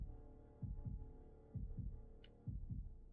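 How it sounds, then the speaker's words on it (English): Heartbeat in the horror video game Shadow Corridor: a low, thudding double beat repeating about once a second over a faint steady hum, quiet and alone. "I just hear the heartbeat"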